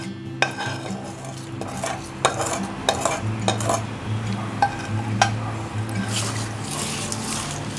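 Cooled tempering is stirred and mixed into homemade pickles, including dondakaya avakaya, with steady spoon scraping and occasional clinks against the container, while a voice talks over it.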